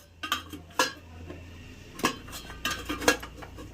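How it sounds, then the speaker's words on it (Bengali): A metal lid is set onto a steel tiffin bowl while pulis are prepared, giving several sharp clinks and clatters spaced apart, close by and with no talk. "টিফিন বাটির মধ্যে দিয়ে দিয়েছি, এবার ঢাকনা দিয়ে দেবো।"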